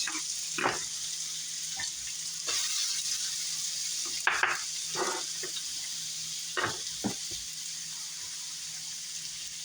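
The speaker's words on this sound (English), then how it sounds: "Okay, so the olive oil is hot. I'm actually gonna do the onions first." Onions fry in hot olive oil with a soft, steady background hiss, broken now and then by sharp clinks and scrapes of a utensil against the pan, fairly faint and without speech.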